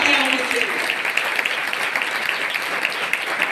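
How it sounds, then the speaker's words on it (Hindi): Loud, dense applause from an audience at an annual report programme, honouring NCC cadet girls, sustained throughout with a brief voice at the start. "जोरदार तालियां होनी चाहिए।"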